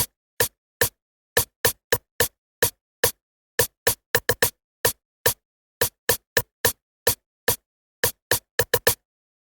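Basic Afrobeat percussion tones programmed in FL Studio 20.8 play as a dry, steady pattern of sharp electronic hits, some doubled in quick pairs, loud and close with silence between strikes and no talking.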